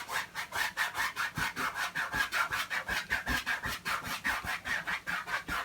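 A 1.5-inch decorating brush dabs and scrubs acrylic paint onto a canvas in quick, regular bristly strokes, about four per second, close and soft, with no one speaking.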